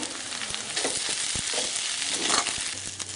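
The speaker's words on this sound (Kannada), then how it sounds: "ಕರಿಬೇವನ್ನು ಹಾಕಿ ಇದನ್ನು ಸ್ವಲ್ಪ ಹೀಗೆ ಕೈನಲ್ಲೇ ಮುರುಗ್ಬಿಟ್ಟು ಹಾಕಿ" Curry leaves crushed by hand and dropped into hot oil in a tempering pan for patrode oggarane, crackling and sizzling loudly and continuously, with a few stirring scrapes and no voices.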